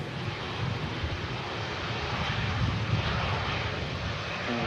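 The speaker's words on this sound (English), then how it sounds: "just taxiing in front of us, the British Airways A320 from London Heathrow" A British Airways Airbus A320 airliner taxiing at Manchester Airport gives a steady, fairly loud engine roar that holds continuously throughout, with no voices over it.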